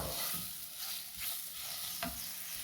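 Banana and grated coconut sauté in a pan with a soft, steady sizzle, broken by a few close scraping stirs of a spoon over a short stretch.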